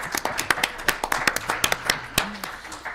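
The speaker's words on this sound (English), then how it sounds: "is a round of applause appropriate?" Scattered, uneven hand claps from a small group at a school board meeting, individual slaps clearly separate rather than a dense wash, close and fairly brisk, fading out after a few seconds.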